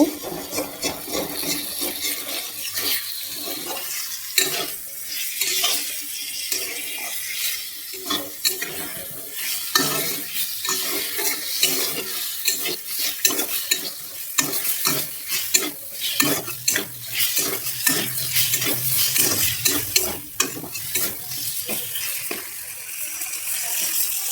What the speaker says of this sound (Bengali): উস্তা ভাজাটা করে নিচ্ছিলাম